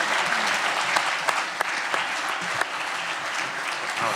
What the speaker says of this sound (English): Ladies and gentlemen, now you guys can applaud.